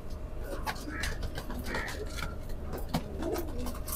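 A Rampuri pigeon pair coos in low, repeated rolling calls at close range, mixed with rustling and scattered other bird sounds and a faint human voice.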